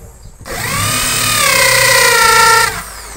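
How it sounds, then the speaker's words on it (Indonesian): An Ellka EL8 electric drill spins up close and loud, holding a steady rising whine for about two seconds before switching off and winding down. "Pokoknya bor ini ya bagus lah, sudah bisa dipakai buat bekerja"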